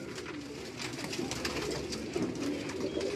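Pigeons coo on a rooftop in Karachi, the soft calls blending into a steady wash of broad outdoor noise and wind with no clear pauses.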